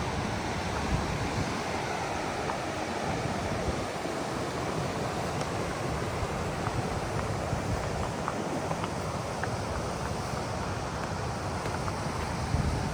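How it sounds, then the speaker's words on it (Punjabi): A mountain river rushes through the Sonamarg valley in Kashmir, a loud, continuous roar of churning water that stays steady from start to finish. "ਪਾਣੀ ਦੀ ਆਵਾਜ਼"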